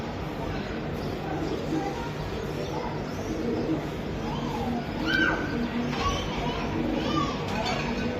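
Pigeons of a breeder's stock, including red Giribaz and racer birds, coo softly amid a busy outdoor backdrop of children's voices and chatter.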